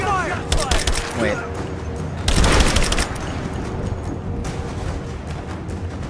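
Rapid gunfire bursts crackle through a Rise of the Tomb Raider video game fight, with a dense loud volley in the middle and scattered shots around it; a voice speaks briefly.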